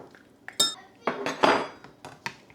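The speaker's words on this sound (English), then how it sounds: "I'm gonna start by cutting the tops off. Maybe run a knife down through there. To core it out." A knife cuts the tops off peppers and cores them, giving a series of sharp clicks and clinks against a cutting surface, with several irregular taps spread over a couple of seconds.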